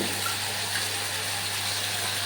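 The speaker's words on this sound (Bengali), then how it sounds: "আমি একটু বাটি ধোয়া জলটা দিয়ে দিলাম" Water from rinsing a bowl pours into soybean masala cooking in a pan, a steady gushing splash over a constant low hum, with no talking.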